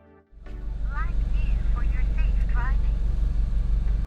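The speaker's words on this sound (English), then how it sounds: "You'll hear a greeting prompt from the device." A BlackVue DR970X dash cam in a 2013 MINI Cooper S plays a short voice greeting at power-up, just after the engine starts. The prompt sounds briefly over a steady, low idle rumble.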